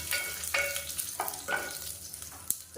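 Cloves, curry leaves and fennel seeds sizzle in hot oil in a pan, a close, steady crackle broken by repeated stirring scrapes and small pops, with no talking.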